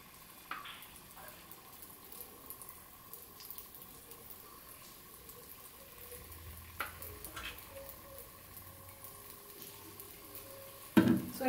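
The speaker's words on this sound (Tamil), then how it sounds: "இப்போ நம்ம இனிப்பு பணியாரத்தை தான் ஊற்றிக்குவோம்." Sweet paniyaram batter poured into hot oil gives a faint, steady sizzle with light clinks and scrapes from the pan and a louder clatter near the end, with no voices.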